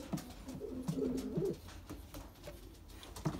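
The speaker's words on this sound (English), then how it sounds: "One of my favorite pigeons as well." Racing pigeons in a breeding loft coo softly, with several low, throaty rolling calls close by early on and quieter cooing and rustling afterward.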